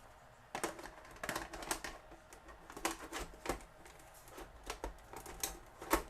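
A Sansui CLD0065 VCR-TV combo's tape mechanism struggles to load an inserted cassette, giving a run of close, uneven clicks and mechanical clatters with brief whirring, all fairly quiet and without talk.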